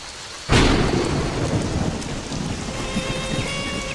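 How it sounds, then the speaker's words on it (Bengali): Heavy cartoon rainstorm: a loud thunder crack bursts in near the start, then dense, steady downpour roars on continuously with no voices. "বৃষ্টির ভাব দেখেছো? মনে তো হয় না যে এত সহজে থামবে।"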